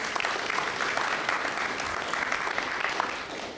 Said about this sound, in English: Let's give them a round of applause for all the hard work they do for us.